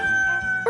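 A rooster crows in a short, close, bright cock-a-doodle-doo burst played as a sound effect, lasting under a second.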